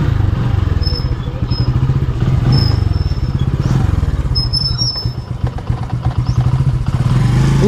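A motorcycle engine chugs close by with a rapid, uneven putter, rattling and clattering as it works along a rough path, running continuously throughout.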